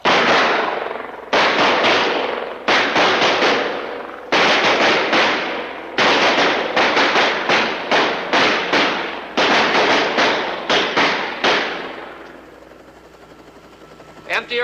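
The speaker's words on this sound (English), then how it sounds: "Fire at will." Pistols firing on a police shooting range, sharp repeated shots in quick bursts from several shooters, loud and close, with brief pauses between volleys before the firing tapers off and stops.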